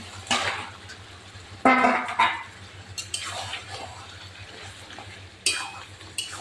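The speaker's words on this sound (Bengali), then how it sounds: "এবার আমি মাংস দিয়ে দেবো, তেল ছেড়ে দিয়েছে। এই যে মাংস আমি দিয়ে দিচ্ছি।" Mutton pieces dropped into hot oil in a pan, several bursts of loud sizzling and spattering with stirring scrapes between them over a low background hum, close and without talk.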